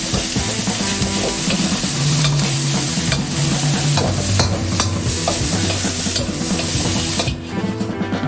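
Pork stir-fried with sweet sauce, loud close sizzling with constant scraping and tossing of the spatula in the pan, continuing almost to the end.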